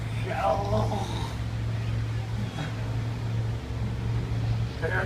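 A steady low motorboat engine drone hums throughout off Fort Myers beach, with people talking over it.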